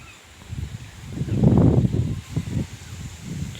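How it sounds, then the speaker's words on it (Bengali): A gust of wind swells and fades, rustling leaves in bursts that rise, peak, then trail off into quieter flutters. "দেখো দমকা হাওয়ার মতো একবার করে আসছে"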